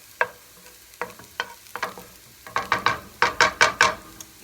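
Egg frying in a big hot pan for fried rice, heard as a low sizzle under a run of scraping, clacking spatula strokes that start sparse and grow quicker and louder.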